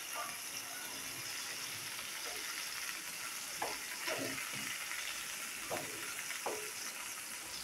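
Bombay duck (bombil) fish fillets frying crisp in a pan, a steady close sizzle with a few sharp spatula scrapes and clicks as the pieces are turned.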